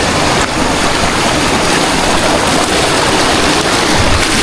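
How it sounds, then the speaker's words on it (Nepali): A river stream rushes continuously over rocks near Bhimphedi, Nepal, a dense, steady broadband flow heard up close with no voices. "खोला छ यहाँ पनि"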